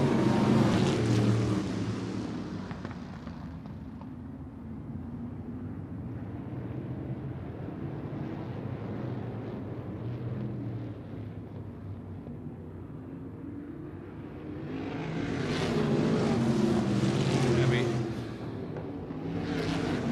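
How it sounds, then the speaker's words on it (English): Can-Am sprint cars race around a speedway, their engines rising into loud passes at the start and again near the end, with a fainter droning stretch between while an announcer talks over the track noise. "Here come the sprint cars."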